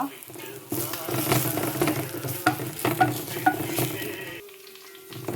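Spices sizzle and fry in a hot pan for a squid and potato curry while a utensil scrapes and stirs through them, close up, with a brief clink near the end.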